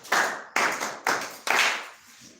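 A classroom of students clapping for themselves, four short sharp bursts of applause in quick succession, close and fairly quiet, with no talk.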